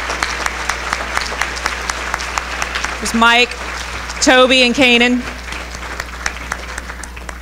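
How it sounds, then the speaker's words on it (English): Breakfast attendees at a legislative event give sustained applause to a video crew, with steady clapping throughout and someone speaking over it in the middle. "Take a round of applause"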